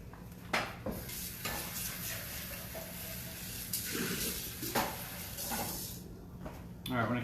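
Cuban coffee soap batter being mixed, a steady close whirring and swishing churn with a few louder bumps, under occasional talk.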